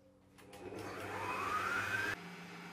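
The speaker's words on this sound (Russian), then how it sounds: "Прежде всего, взбейте сливки в миксере." An electric mixer whips half a litre of cream in a bowl, a steady whirring motor that rises in pitch as it spins up, then drops to a lower hum near the end, close and alone.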